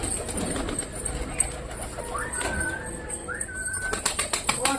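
Pigeons coo softly and repeatedly while feeding. Faint soft taps and fluttering come through over nearby people talking.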